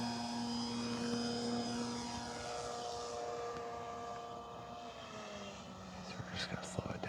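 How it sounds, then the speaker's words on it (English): Hangar 9 PT-19 RC airplane with 1435mm wingspan slowing down on approach to land over trees, a steady propeller drone holding throughout at moderate distance with its pitch gradually dropping, wind noise and a few faint voices underneath. "So we're just gonna slow it down. Bring it right in over the trees."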